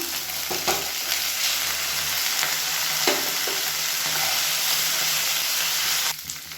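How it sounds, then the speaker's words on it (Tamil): Pirandai (adamant creeper) and curry leaves sauté in hot oil for a kulambu, giving a steady, loud sizzle with occasional scrapes of stirring, fading slightly at the very end. "இந்த பிரண்டை எண்ணெயில் நல்லா வதங்குச்சுனா தான் டேஸ்ட்டாக இருக்கும்"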